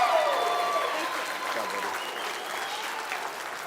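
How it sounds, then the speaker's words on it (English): A crowd applauds a fifth-place finisher at a state fair goat and swine showmanship final, a broad, even patter of clapping in a large venue that slowly fades, with a voice speaking faintly over it. "Let's give him a big round of applause."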